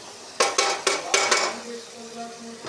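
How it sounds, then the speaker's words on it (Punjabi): Ground chickpeas tipped into a pan, several quick metallic knocks and scrapes of a utensil against the pan in close succession, then fading to a faint hum. "ਇਹਦੇ ਵਿੱਚ ਆਪਾਂ ਪਾ ਦਿੰਦੇ ਆ ਜੀ ਛੋਲੇ ਆਪਣੇ"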